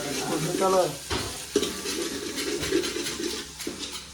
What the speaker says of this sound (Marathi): कांदा मारत ठेवला आहे